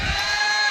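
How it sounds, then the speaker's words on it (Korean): Church congregation cheering and shouting in a large worship hall, a loud dense crowd roar that swells briefly at the start and holds steady. "여기 환호성이 나온 거 아멘."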